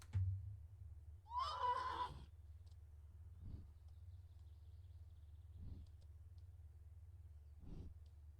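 A single horse in the video game whinnies sharply up close, followed by a few soft low snorts spaced out over a steady electronic hum.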